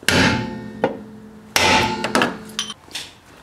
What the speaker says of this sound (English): I like to turn the hammer and hit it like this sideways so I don't miss and hit my hand